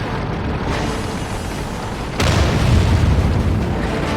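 Artillery shells burst around a Jagdtiger tank destroyer in World of Tanks: a continuous rumbling roar, then a heavier low boom lands suddenly and keeps thundering loudly through the rest.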